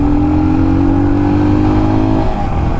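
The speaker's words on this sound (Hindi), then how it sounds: "और अभी थोड़ा थ्रॉटल देते हैं," A 2022 Royal Enfield Scram 411 scrambler motorcycle engine drones loud and close under throttle, a steady, deep humming rev that drops in pitch near the end.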